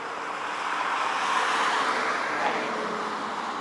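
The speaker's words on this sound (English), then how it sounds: "The traffic go by." Road traffic passing a house near a corner with a 7-Eleven, a continuous broad rushing roar of vehicles going by at moderate distance, swelling gently and fading without a break.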